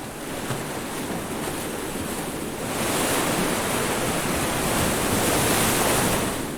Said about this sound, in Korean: 큰 파도와 이따금 휘몰아치는 태풍은 평화로운 산호들의 왕국을 순식간에 쑥대밭으로 만들어 놓기도 한다.